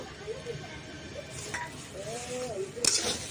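Grated boiled potato is worked into boiled beetroot and carrot in spiced masala for vegetable chops, giving soft, steady stirring and scraping in a pan. A sharp metallic clink lands near the end.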